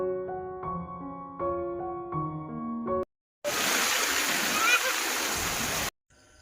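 Heavy rain falls while rainwater pours off a hillside. A short passage of tonal music comes first, then a loud, steady rushing roar of water holds for a few seconds before it cuts off abruptly.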